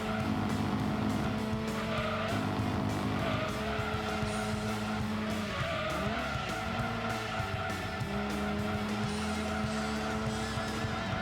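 Race car engines whine steadily in the Gran Turismo 2 racing game, with sustained tire squeal and skidding layered over a constant high-revving drone throughout.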